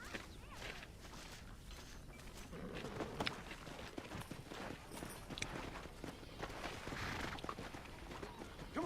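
A saddled horse walks in Red Dead Redemption, its steady clip-clop hoofbeats running throughout amid busy game ambience and scattered background noise.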